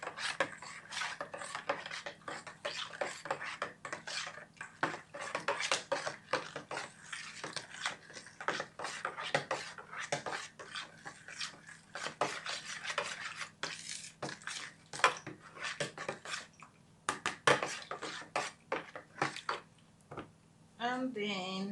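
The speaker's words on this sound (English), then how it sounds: "Also keep mixing." Continuous scraping and clattering from a spoon or utensil working bread dough in a bowl after salt is added, close and busy with irregular knocks and rubs, steady for about twenty seconds.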